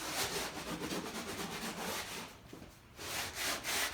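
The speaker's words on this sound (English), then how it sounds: "Sand this side down now." Body work on a Chevy pickup is sanded with coarse 36-grit paper in steady, rhythmic rubbing strokes that rasp continuously up close, with a brief lull partway through before the scraping resumes.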